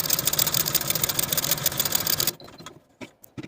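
A sewing machine set to its longest stitch runs a quick, even stitching rhythm along a lace sleeve cap for a little over two seconds, then stops, leaving a few quiet handling clicks.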